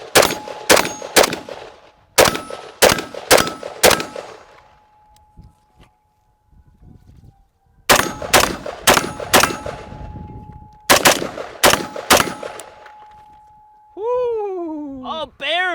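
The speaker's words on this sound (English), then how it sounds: "let's do a little bit of shooting" Bullpup and AR rifles fire outdoors in loud, sharp bursts of rapid shots with metallic ringing, separated by quiet pauses, and a voice speaks briefly at the end.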